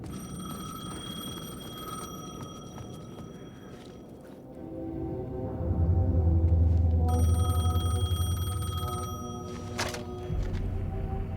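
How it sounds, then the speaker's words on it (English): A payphone rings in the video game Alan Wake 2, clear repeated tonal bell bursts sounding over a low, dark ambient drone that swells midway. "The payphone was ringing."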